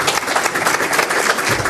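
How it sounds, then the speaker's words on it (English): Conference audience applauding panellists at the close of a panel discussion, a steady, dense wash of many hands clapping together, fairly loud and continuous for a short burst. "please let's give a big round of applause to our panellists"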